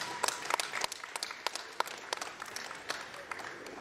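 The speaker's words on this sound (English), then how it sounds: "Round of applause, please, for those two wonderful," A crowd applauds at a Holstein dairy cattle show in Chilliwack, BC: a moderate burst of scattered hand claps that keeps going at a fairly even level, with some sharper individual claps standing out.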